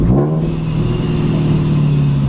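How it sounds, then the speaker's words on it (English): A turbocharged Subaru BRZ running on a dyno, engine droning steadily with a sustained high turbo whine riding over the low rumble, loud and close throughout. "Turbo, you don't hear it till maybe it's like full spool, and then you hear it blow off"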